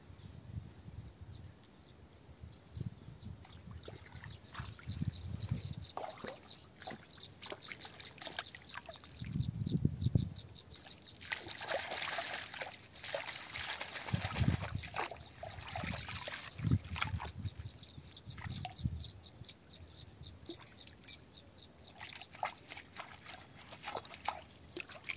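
Running water pours and trickles as produce is rinsed clean of soil, an uneven splashing stream with bursts of louder gushing and handling, fairly quiet overall.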